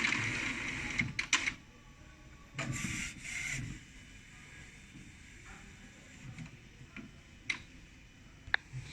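An Epson L805 inkjet printer with a roll paper feeder whirs and clicks in short mechanical bursts after power-on, with rubbing motor sweeps and scattered ticks as it runs through its startup cycle.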